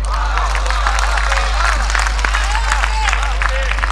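Applause and crowd noise at a parliamentary or poetry gathering, clapping mixed with murmuring voices and cheering under a constant low electrical hum, fairly loud and dense throughout.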